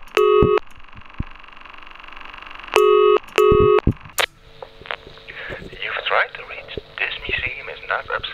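Telephone dialing tones on an answering machine line connected to a magnetic recording machine: several loud, steady multi-tone beeps in separate bursts, then quieter line noise and faint talk.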